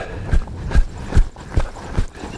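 A horse walks with regular clip-clopping hoof beats, about five or six evenly spaced thuds, close and fairly loud, with no talking over them.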